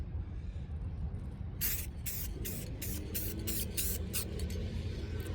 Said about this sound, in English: we'll just put a light coat, just kind of like so. A couple sprays here.